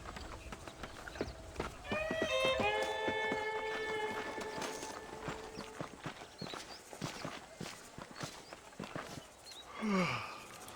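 Horse hooves clip-clop at a walking pace in Red Dead Redemption, a rhythmic run of near, moderately loud hoofbeats with harness jingle and a brief whinny toward the end.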